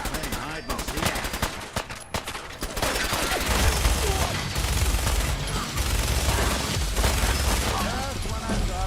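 Rapid video game gunfire in a tense hide-and-seek standoff, dense bursts and volleys filling the scene continuously and loudly, with scattered shouting voices over the shots.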